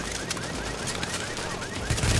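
Suppressing gunfire in the video game Tom Clancy's The Division, a steady dense rattle of shots running under a busy game soundscape, growing slightly louder toward the end.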